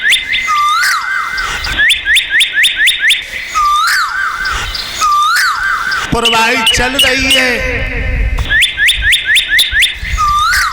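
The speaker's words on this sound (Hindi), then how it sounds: "कोयल बोल रही है," Repeated high, rising whistled bird calls of koel cuckoo and papiha ring out in bursts over a continuous spoken narration, with a stretch of denser chirping in the middle.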